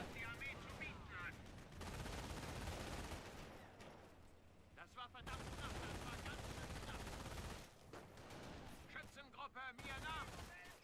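Machine gun fire rattles in long sustained bursts in the WWII strategy game Company of Heroes, broken by brief lulls and scattered single shots, with a voice talking over the battle.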